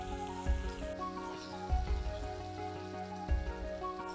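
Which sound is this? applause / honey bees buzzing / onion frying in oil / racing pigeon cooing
onion frying in oil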